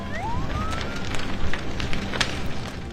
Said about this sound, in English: our house is on fire